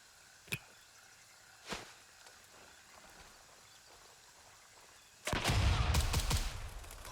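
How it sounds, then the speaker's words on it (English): A grenade is lobbed at enemies in the video game Gray Zone Warfare: two sharp distant pops come first, then after a lull a loud, close blast bursts out and rumbles for over a second. "so I'm going to lob a grenade at them"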